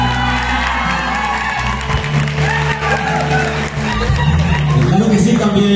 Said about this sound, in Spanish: Pedimos aplausos para Felipe Tolentino San Juan.